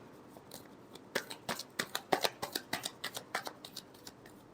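Tarot cards being shuffled in quick, crisp bursts of riffling and slapping, a steady run of a dozen or so close, dry flutters with a brief quieter lead-in.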